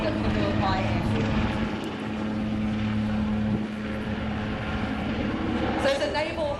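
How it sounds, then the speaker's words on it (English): NZ Navy naval helicopter from No. 6 Squadron displaying at the Classic Fighters Omaka 2023 air show, its rotor and engine drone steady and moderately near, heard under a commentator's running talk. "Those of you with eagle eyes will see that this is actually a naval helicopter."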